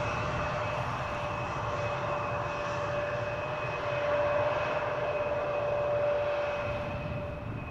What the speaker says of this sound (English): Transavia 737 going to the center runway.